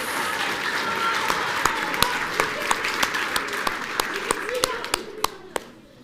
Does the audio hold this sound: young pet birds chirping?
no